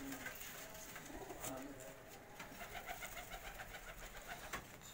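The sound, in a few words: racing pigeons cooing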